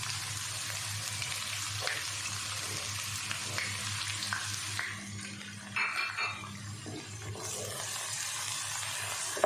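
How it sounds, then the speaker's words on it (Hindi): Finely chopped onion fries in a pan for chana dal, giving a steady soft sizzle with occasional stirring scrapes and light clinks, moderately quiet and continuous, with no talking. "दो से 3 मिनट अच्छे से फ्राई कर लेते हैं।"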